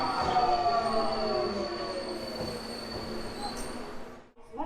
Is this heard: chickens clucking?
no